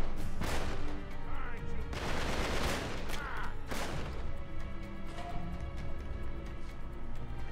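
Gunfire in a fight in the video game Uncharted 3, loud bursts of rapid shots and heavy impacts clustered in the first few seconds over a dense, rumbling battle din, close and intense.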